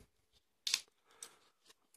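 A sharp snip of scissors cutting open packaging, then a few softer cutting and rustling sounds against a quiet background, with no talking.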